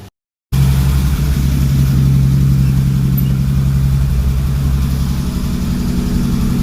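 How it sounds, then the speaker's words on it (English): A car engine catches after a brief silence and settles into a steady, loud idle with a low, even hum that runs unbroken to the end. "Well, car starts fine."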